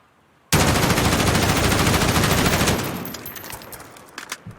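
Automatic gunfire in the game Modern Warfare, a single loud sustained burst of rapid shots lasting about two seconds, then a ringing tail that fades out with a few faint clicks.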